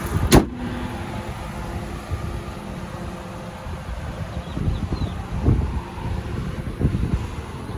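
A 2014 Ram 1500 Laramie 4x4 with a 5.7 liter Hemi V8 idles smoothly, a steady low rumble close by with faint wind noise and a sharp click near the start.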